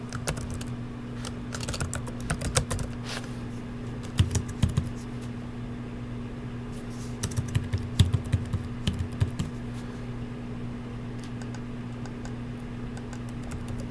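Irregular clicking of computer keyboard keys as credit card information is typed, with scattered key presses and short clusters over a steady low electrical hum.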